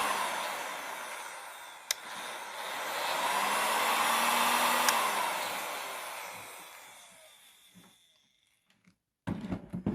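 A Makita HG6531CK heat gun's fan blows at higher speed with a steady airy roar that swells louder in the middle, then winds down to silence before a brief clatter.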